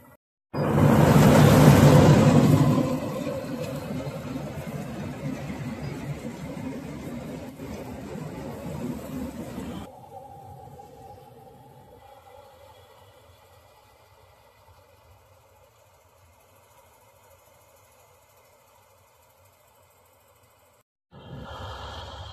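A harvester's engine runs loud and steady while cutting wheat in a farm field, strongest at first, then easing to a lower drone before rising again near the end.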